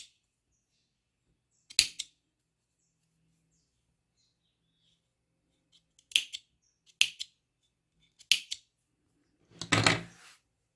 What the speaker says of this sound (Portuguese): Agora é só cortar a parte de baixo com uma tesoura.